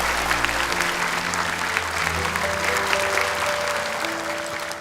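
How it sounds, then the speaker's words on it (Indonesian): Applause from an audience at a graduation ceremony event, steady dense clapping close and loud throughout, with a faint sustained tone beneath. "Sekali lagi buat tepuk tangan untuk mereka."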